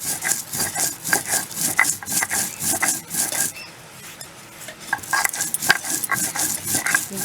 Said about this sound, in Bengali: দেখুন বন্ধুরা কি সুন্দর বাটা হচ্ছে মশলা